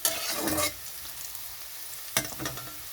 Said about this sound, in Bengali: শুক্তো রান্নার জন্য উচ্ছেটা ভাজতে দিয়েছি।